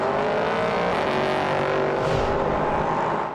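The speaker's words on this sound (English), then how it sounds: "look at the top end speed of the Corvette, just creeping back against the Aston" GT racing cars, a Corvette and an Aston Martin, roar flat out at Monza, a loud sustained engine howl with a car sweeping past partway through, heard alone without talk.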